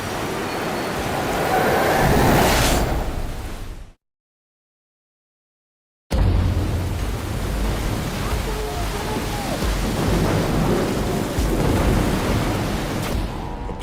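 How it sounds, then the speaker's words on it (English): Storm at sea off the coast of Africa, a loud, steady roar of wind and crashing surf that cuts to silence partway through and then resumes just as heavy. "Caught in a storm off the coast of Africa,"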